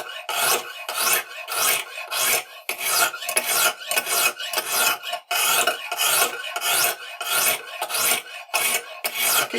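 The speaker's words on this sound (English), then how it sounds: "What we're basically doing now is just trying to grind out the extra coarse lines." A knife blade is drawn repeatedly across a coarse Lansky sharpening stone, producing a steady series of close, loud rasping strokes in an even back-and-forth rhythm with no talking.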